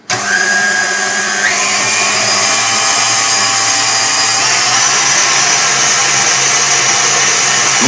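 An electric mixer whirs loudly and continuously through cheesecake batter after flour is added, its motor pitch rising briefly near the start and then holding a steady, close-up drone.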